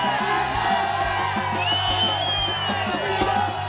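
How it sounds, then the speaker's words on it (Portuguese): Futsal fans at a championship final in Barrocas, Bahia roar and whoop in celebration, a dense, sustained crowd din with shouts and drum-like thumps rising throughout. "Festa para a torcida Lagoa da Cruz!"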